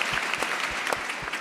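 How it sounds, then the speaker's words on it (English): A live audience at a talk bursts into dense, steady applause for a question just asked, many hands clapping loudly and evenly with no pause from start to finish. "I think we applaud for the question, first of all."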